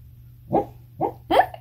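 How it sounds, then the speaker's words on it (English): A sleeping dog, apparently dreaming, gives three short, muffled barks in quick succession, close by, over a quiet background. "You hear my dog? He's having a dream."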